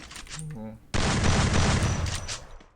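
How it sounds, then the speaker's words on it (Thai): Loud, sustained automatic gunfire from the 2023 update of the mobile shooter game Free Fire, a dense continuous burst lasting nearly two seconds, after a few brief tonal game sounds. "ไหนเสียงปืนพี่ว่าเหมือนเดิมนะ"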